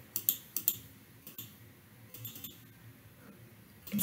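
Typing on a computer keyboard during Adobe Illustrator work, with a quick burst of sharp key clicks at the start, a couple of isolated taps midway, and another cluster of clicks at the end over a faint room hum.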